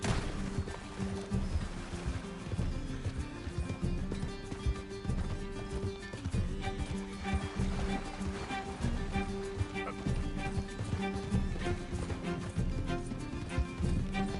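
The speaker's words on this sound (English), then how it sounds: "Can't this horse go any faster?" Horse galloping in the video game Red Dead Redemption 2, a steady rapid drumming of hooves that continues without a break, mixed with game sounds and background noise.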